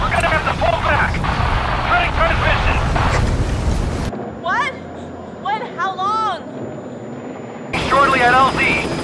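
A video game support helicopter's rotor thumps loudly, cuts out to near silence with a few electronic chirps and blips, then the rotor noise returns.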